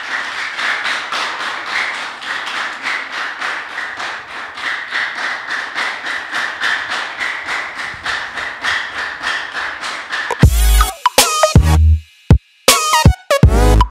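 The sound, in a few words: audience applauding warmly for guest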